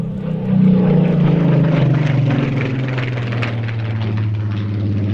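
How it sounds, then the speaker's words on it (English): An aircraft flying a display passes overhead, its loud engine drone swelling quickly, then holding a steady, slowly shifting tone. "we've got the display of that particular aircraft coming up"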